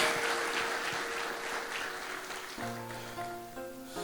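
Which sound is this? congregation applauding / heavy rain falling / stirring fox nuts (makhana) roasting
congregation applauding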